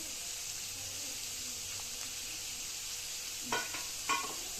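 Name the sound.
onion frying in a pan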